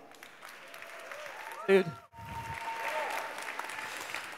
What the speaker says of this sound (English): Please have a round of applause for Nilan.